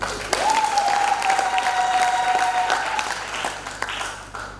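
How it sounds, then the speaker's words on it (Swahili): An audience at a seminar for widows claps steadily for several seconds, a dense, continuous patter of many hands, with a faint sustained tone running through part of it. "Jipigieni makofi."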